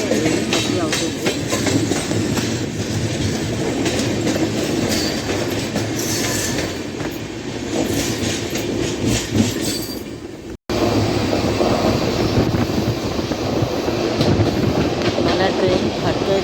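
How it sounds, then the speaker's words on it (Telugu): Steady rumble and rhythmic clatter of a passenger train on the Ahmedabad to Secunderabad route, heard from inside a moving coach near Hatkesar, loud and continuous with a brief dropout near the end. "మన ట్రైన్ హట్కేసర్ క్రాస్ అయిపోయింది."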